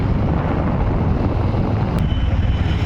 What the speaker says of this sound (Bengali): এখন আমি বাইকে উঠে গেছি বাইকে করে যাচ্ছি